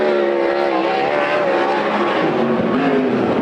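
A sprint car laps Coos Bay Speedway during a Western Sprint Tour event, a loud, continuous high-revving engine roar heard close, with no talk over it.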